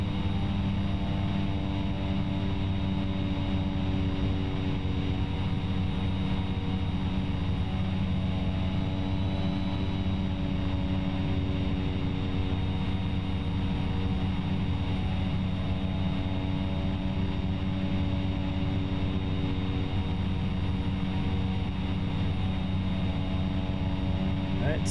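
A Cessna C208B single-engine turboprop drones steadily in flight, its propeller hum holding a continuous, even tone with strong harmonic layers throughout, heard from inside the cabin.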